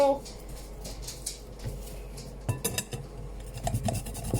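Garlic grated on a microplane over sliders, a dry rasping scrape with short strokes, close and moderately loud, mixed with kitchen clatter.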